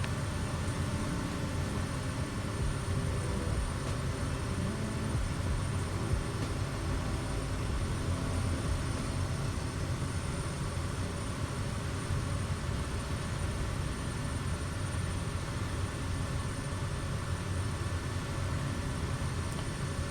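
Steady, loud engine drone fills a small airplane's cabin on final approach to a runway over Baja California, a continuous broadband hum with no breaks or voices.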